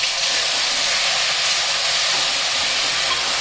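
Garlic sizzles in hot oil as it fries for a quick garlic rasam. A loud, steady, close hiss holds unbroken for the whole few seconds, with no talk.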